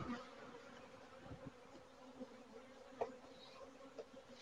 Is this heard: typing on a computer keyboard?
no